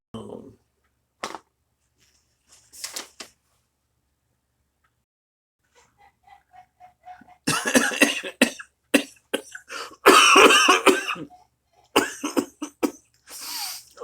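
Scattered coughs early on, then a run of repeated harsh, close coughing fits in quick bursts, with brief quiet gaps between them.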